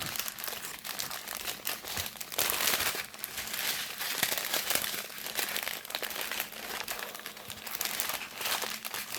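Crinkly plastic packaging from a diamond painting and cross-stitch kit unboxing is folded by hand, a continuous close, dense rustling and crackling that runs throughout with no pauses.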